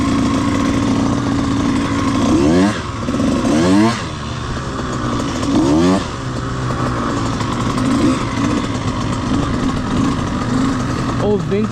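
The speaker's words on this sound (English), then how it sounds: "Old vintage Honda, that's pretty sick. With a 212 in it." An old vintage Honda minibike fitted with a 212 engine, running loud and close with a buzzing drone that rises and falls in a few revving swells, while voices talk over it.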